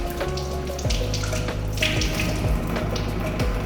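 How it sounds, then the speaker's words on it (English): Tap water running steadily into a sink while hands are wet for handwashing, a close continuous splashing stream with small shifts as the hands move through it, no voices. "Wet hands with water."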